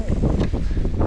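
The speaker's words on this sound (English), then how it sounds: "Very windy." Strong gusting wind buffets the microphone at a mountain summit on a mountain-bike ride in Peru, a loud continuous low roar with fluctuating rushes and no speech.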